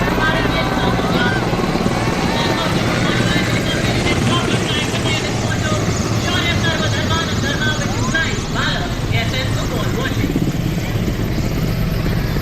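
Indian Air Force Mi-17 helicopters flying in formation over the 76th Republic Day Parade on Kartavya Path, a loud continuous rotor roar filling the air while a commentator speaks over it.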